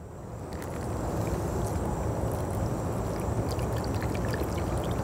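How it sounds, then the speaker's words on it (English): A mixed cocktail poured into a glass, a soft steady liquid stream that swells in and runs continuously for several seconds, close and fairly quiet. "Let's pour it."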